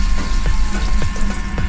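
Water runs from a push-to-operate faucet in an Airbus 319 aircraft lavatory, a loud, continuous splashing hiss with small sputtering pops throughout.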